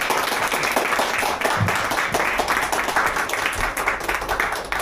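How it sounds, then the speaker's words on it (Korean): Audience applause at a blind wine-pairing tasting championship event, dense steady clapping filling the room for several seconds with no talk over it. "뜨거운 박수 부탁드립니다."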